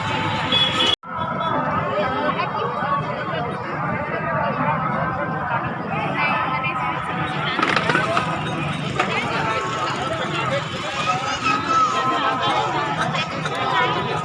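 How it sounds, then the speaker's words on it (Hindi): A large crowd of devotees mills about at a Devi Maa temple in Kawardha, Chhattisgarh, a steady hubbub of overlapping chatter, with someone narrating close by over it. "और यहाँ भारी भीड़ भी बने हुए हैं।"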